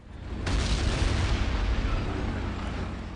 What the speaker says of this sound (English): If I'm not mistaken, we're now getting hit by some enemy artillery.